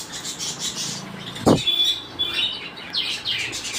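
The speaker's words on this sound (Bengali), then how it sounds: "তো দেখে নাও এইগুলো পায়রাগুলো সব" Giribaz and Madras pigeons in a loft make faint chirps and calls along with a sharp rustle or flap, against low background noise.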